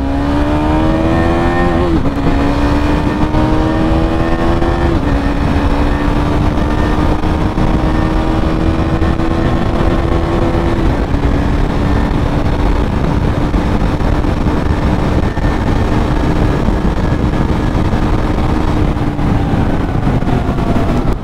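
A KTM Duke motorcycle riding at speed, its engine droning loud and steady with rising pitch through each gear and brief dips at the shifts, no talk over it.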